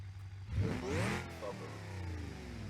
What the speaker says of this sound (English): Hey, the supercharger sounds good on this thing. Very nice whine.